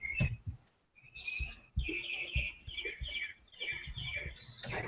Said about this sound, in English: I love the birds. It's so good. So you can hear it. Oh yeah, the birds.